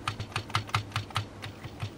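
Keys tapped one at a time on the keyboard of a Commodore Plus 4 computer with partly working keys: a steady run of about a dozen crisp, close clicks, no voices.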